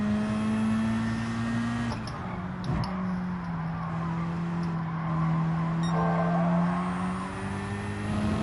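Race cars in Gran Turismo 7 hold a steady, loud engine drone on the track, with sustained high revs and a few brief pitch shifts as gears change and the pack presses on.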